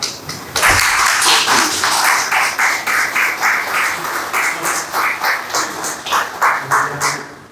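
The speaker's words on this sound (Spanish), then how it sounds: "Un aplauso para Julián." Applause for Julián at a Spanish-language lecture on scholastic philosophy: a full room claps steadily, loud and close, with rhythmic swells that taper toward the end.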